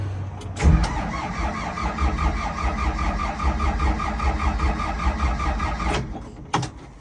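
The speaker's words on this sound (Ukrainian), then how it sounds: "Заводимо без свічі накала перший раз" A tractor engine cranks over without a glow plug, the starter churning steadily and rhythmically for about five seconds before it cuts off without the engine catching, recorded up close from inside the cab.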